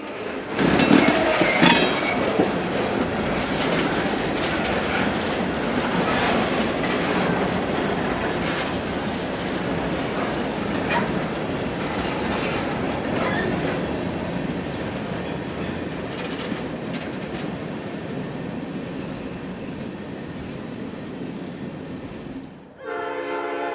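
A Norfolk Southern B-16 freight train passes at CP Indy with a horn blast near the start, then a long, steady roar of rolling cars and clattering wheels that cuts off abruptly.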